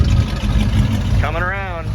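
A 1971 Buick GS Stage1 convertible engine runs close by with a deep, steady low rumble, while a voice briefly speaks over it.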